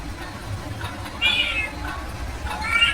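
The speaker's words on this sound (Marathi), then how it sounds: "ती जाडी मांजर होती" A fat cartoon cat gives two short, bright meows, the second one rising toward the end, over a low, steady background hum.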